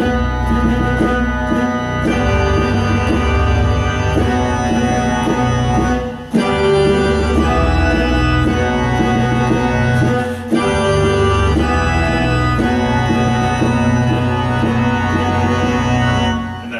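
Pipe organ chords played on a keyboard with sustained string tones underneath, rich and loud, moving through several chord changes with brief pauses.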